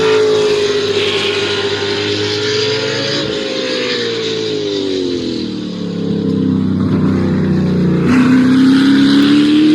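A race car engine drones loud and steady, dropping in pitch as the car brakes and downshifts, then revving back up. It sounds continuous and close, with no talking.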